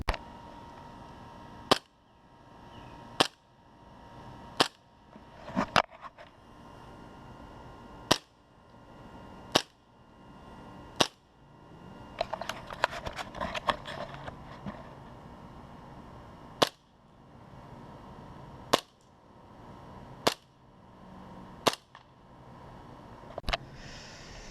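Repeated sharp cracks from an ASG CZ P-09 airsoft pistol firing outdoors at a target, about a dozen shots spaced one to two seconds apart, each a crisp snap over quiet ambient background with a brief rustling stretch midway.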